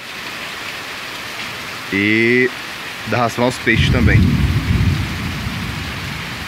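Heavy rain pours steadily over a small farm during a storm, a dense constant hiss throughout, while someone speaks briefly over it partway through.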